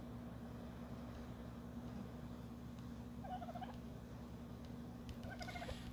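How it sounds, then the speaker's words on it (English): A dodo bird in the mobile game Ark: Survival Evolved gives two short, faint, gobbling calls, heard over a steady low hum of game ambience. "There's a dodo bird."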